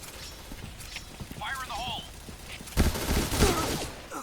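Rapid gunfire from a shooting video game breaks out as a dense, loud burst of shots in the second half, after quieter clatter and a brief voice earlier on.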